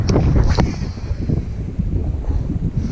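Wind buffeting a microphone outdoors on a cold day of bass fishing in North Carolina, a loud, rumbling roar that gusts continuously, with no talking.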